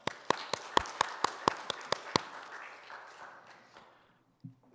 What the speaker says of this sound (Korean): 우리 하나님께 박수 한번 칠까요?